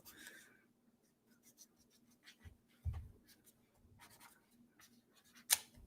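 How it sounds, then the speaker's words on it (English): A pen moves across paper in short, quiet scratching strokes with small gaps between them, plus a soft tap or two, close up and with no talking. "I just want to draw something out for you."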